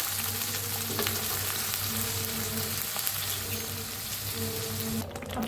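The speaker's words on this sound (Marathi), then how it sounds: "आता हे मसाला ह्याच्यात मसाला भाजून घेऊया" Spice masala paste frying in hot oil in a kadai for an egg curry makes a continuous dense sizzle with occasional stirring scrapes, which briefly thins near the end.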